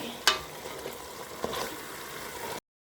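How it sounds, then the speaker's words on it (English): Vegetables sizzle in a pan for noodle stir-fry, a steady crackling hiss with a couple of sharper spits and clatters, close by and alone, ending in sudden silence. "And now we're going to leave it 2 minutes to fry."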